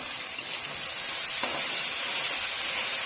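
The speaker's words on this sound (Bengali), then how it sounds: "চিংড়ি মাছটা দিয়ে দিচ্ছি। চিংড়ি মাছ ভালো রান্না করবো।" Prawns dropped into a hot pan in a Bangladeshi village kitchen give a steady broadband sizzle and hiss that runs the whole time, with a brief spit midway and no talk.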